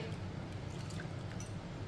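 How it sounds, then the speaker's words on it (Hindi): Chana dal being rubbed and washed by hand in a bowl of water, giving faint steady squishing and sloshing, soft and close with no talk. "अब इसे 2-3 बार अच्छी तरह मसल के वॉश कर लेंगे।"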